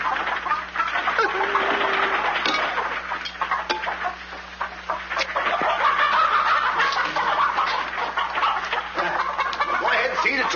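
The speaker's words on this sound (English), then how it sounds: "Well, feed the chickens." Chickens clucking in a barnyard scene from the 1952 film Jack and the Beanstalk, a steady busy chorus of clucks and squawks at moderate loudness throughout.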